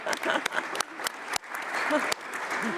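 Participants at an international skin NTD meeting applaud at the end of a session, a steady patter of many hands with a few sharper claps, moderately loud, with some voices underneath.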